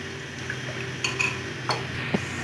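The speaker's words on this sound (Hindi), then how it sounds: "कॉर्नफ्लोर को हम अच्छी तरह मिक्स कर लेंगे।" Cornflour being stirred into a vegetable bread patty mixture, soft quiet mixing with a few light clinks and taps of a spoon against a bowl.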